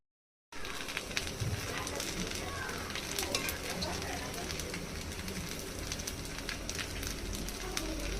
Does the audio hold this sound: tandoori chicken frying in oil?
yes